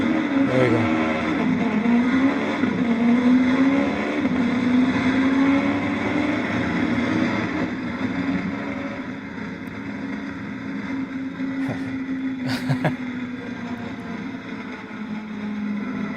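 A race car engine on a track drones steadily and loudly throughout, its pitch rising and falling gently as it drives, with a brief sharper sound near the end.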